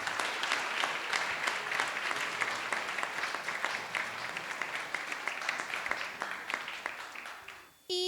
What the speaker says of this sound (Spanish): Un aplauso, por favor, para el doctor.